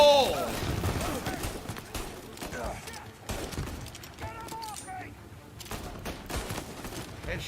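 Video game gunfire crackles in bursts under loud, excited talk from several players, with scattered shots and other game noises mixed throughout.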